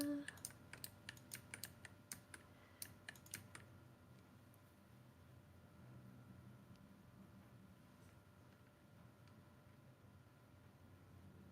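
Rapid bursts of computer keyboard keys being mashed repeatedly, a flurry of sharp clicks in the first few seconds that then trails off into faint background hiss.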